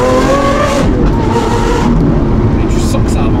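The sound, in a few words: Lamborghini Aventador engine accelerating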